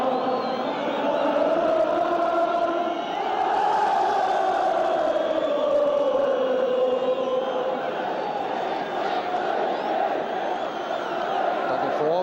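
At the 1973 League Cup Final at Wembley, the Norwich City crowd keeps up a sustained, echoing chorus of On the Ball City, a broad wall of voices that rises slightly midway and never drops out.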